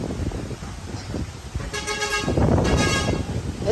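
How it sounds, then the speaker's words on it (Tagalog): A tour boat's horn sounds from about 1.7 seconds as two sustained tonal honks at a cove, mid-distance and moderately loud over outdoor wind and crowd noise. "Ayun na yung bangka namin guys. Bumubusina na."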